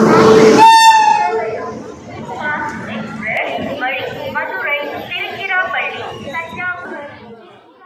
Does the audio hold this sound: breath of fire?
no